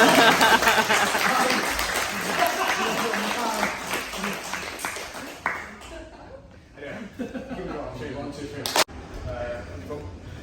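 Workshop attendees at a Brazilian jiu-jitsu session clap for a demonstration partner, a burst of applause with some chuckling that fades after about five seconds, followed by quieter scattered sounds and a sharp knock.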